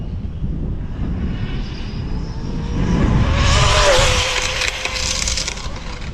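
A WLTOYS 124019 RC car speeds past, its high electric whine and tire rush swelling loud in the middle and then fading, over constant rough outdoor noise, with no talking.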